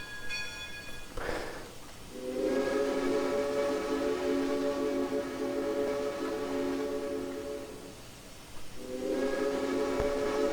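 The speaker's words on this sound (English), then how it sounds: "It's not a terrible whistle, but it's definitely not my favorite." A steam locomotive whistle on a Washoe Valley War Baby 4-8-4 in the train simulator Trainz 2019 blows one long, loud chime for about six seconds, then sounds again briefly after a short pause, with no talking.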